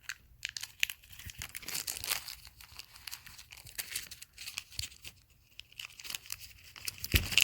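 A plastic Ziploc bag is handled and opened during a tabletop war game, giving close, irregular crinkling and tearing rustles that come and go across the stretch with no talk.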